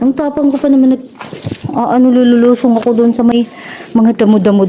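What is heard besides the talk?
No everyday noises stand out.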